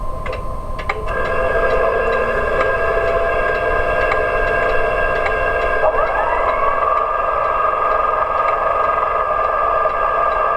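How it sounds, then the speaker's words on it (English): Vacuum exhauster from a Heljan O gauge Class 73 locomotive sound decoder, a steady loud mechanical drone with tonal whine running continuously, pitch shifting slightly partway through. "We also have a vacuum exhauster."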